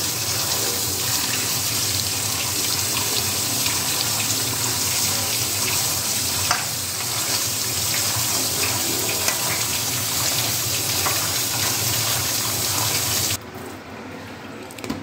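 Tap water runs steadily into a kitchen sink while vegetables such as tomatoes, peas and potatoes are rinsed, a continuous close splashing flow that cuts off abruptly near the end.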